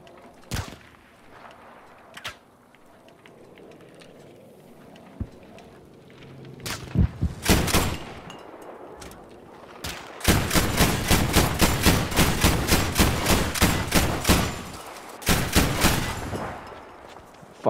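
Battlefield V battle gunfire: a few isolated sharp shots early, then long rapid bursts of automatic fire, loud and close, with sparse distant reports between.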